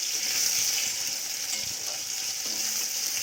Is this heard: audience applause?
no